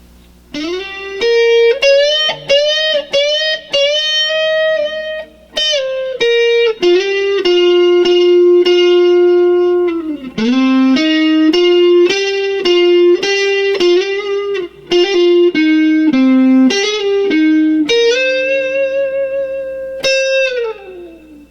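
A distorted electric guitar plays the intro solo of a song, sustained bending notes with slides, loud and continuous, with no voices.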